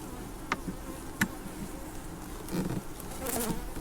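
Honey bees buzz around an open hive during an inspection, their soft, close humming drone carrying on steadily with a few brief louder passes and small knocks.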